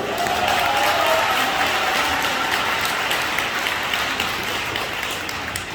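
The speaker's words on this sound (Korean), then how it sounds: "박수로 올립니다" An audience at a press conference held by pastor Jeon Kwang-hoon applauds continuously, a dense, even roar of clapping that holds steady throughout, with little voice over it.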